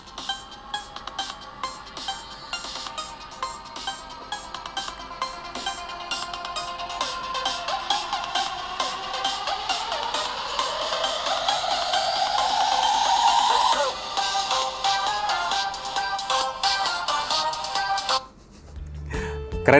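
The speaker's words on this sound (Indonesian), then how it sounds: "Sampai ke ringtone juga nih" An Infinix Hot 30 smartphone ringtone plays alone, with a busy melodic pattern that rises and grows louder over about fifteen seconds before cutting off.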